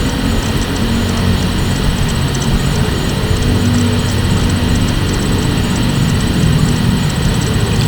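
Newly installed spin dryer motor running with the lid closed, a steady loud whirring hum with a constant low drone and no pauses or talk.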